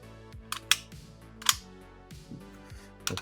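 A Heckler & Koch P7M13 pistol is handled during a safety check, giving several sharp metallic clicks and clacks spaced irregularly at close range over a quiet background, with no talking.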